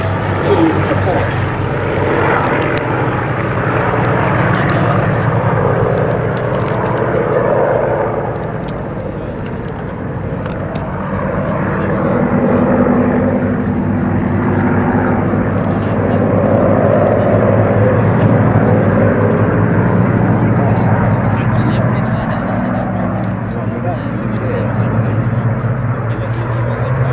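B-17 bomber and Me 109 fighter flying in a mock late-war dogfight at an air show at Duxford, a sustained droning propeller-engine roar that swells and fades as the planes pass, under a commentator's voice throughout.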